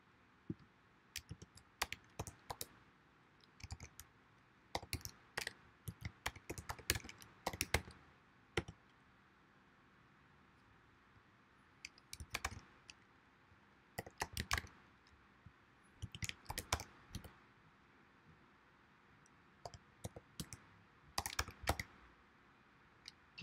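Keys on a computer keyboard clatter in quick irregular bursts of typing with short pauses between, close and crisp in a quiet room.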